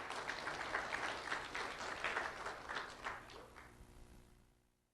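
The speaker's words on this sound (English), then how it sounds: "Let's have a round of applause for Liberty Rogers." Applause from an audience at a sheriff's office community recognition ceremony honoring an elementary school student, a steady crowd clapping at moderate distance that fades out over the final second.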